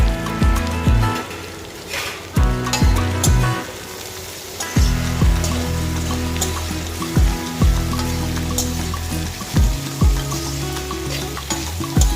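Chopped onions frying with okra (bhindi) in hot oil, a steady close sizzle with occasional stirring scrapes, over soft background music and with no talking.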